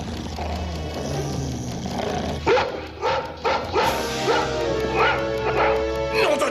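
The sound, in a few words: dog barking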